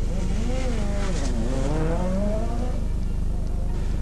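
A four-wheel-drive Ford RS200 rally car at the 1986 24 Hours of Ypres rally revs hard at the start, its engine note rising and falling through gear changes beneath a French-speaking commentator's voice.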